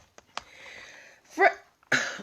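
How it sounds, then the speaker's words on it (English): A few short, sharp hiccups in a quiet room, isolated bursts with pauses between them and no talking. "I have a mild case of the hiccups"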